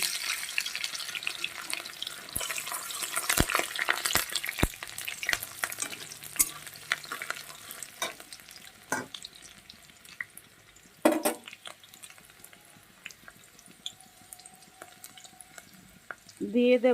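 Dried red chillies, green chillies and chopped garlic frying in oil with cumin, a busy close sizzle broken by sharp stirring clatters and a brief burst near the end, with a voice speaking now and then.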